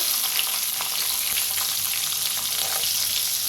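Asafoetida, curry leaves and green chillies temper in hot oil with cumin, giving a steady, bright sizzle and crackle that stays even and close throughout.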